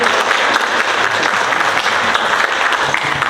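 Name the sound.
audience applause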